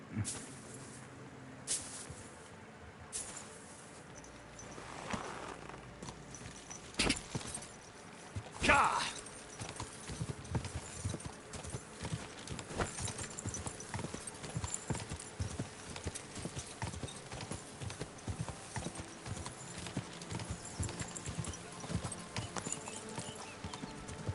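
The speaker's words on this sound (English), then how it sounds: "it's a beautiful horse" Horse hooves clip-clopping in the video game Kingdom Come Deliverance 2, a steady rhythmic trot that runs most of the way through, close and clear, with a brief whinny and a few sharp game sounds early on.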